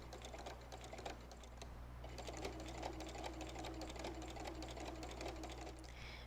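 A sewing machine with a walking foot stitches quilt fabric, giving a fast steady mechanical chatter over a low motor hum, fairly faint, with a short pause before it runs on.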